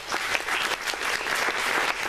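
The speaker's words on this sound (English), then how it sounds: "give them a round of applause" An audience at a talk about sharks and spearfishing breaks into steady applause, a dense wash of many hands clapping at even loudness throughout the short stretch.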